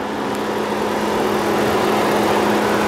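A 2013 Dodge Durango R/T's Hemi engine with a stock airbox idles close by, a steady, even hum that holds constant throughout with no revving.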